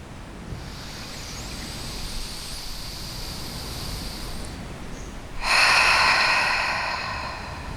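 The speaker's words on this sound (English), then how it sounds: "One more big breath." A slow deep breath during a beginner yoga stretch for hips and hamstrings, with a soft drawn-out inhale and then a louder, breathy exhale near the end, close and alone over a quiet background hiss.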